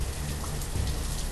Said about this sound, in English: It's been raining for like 12 days now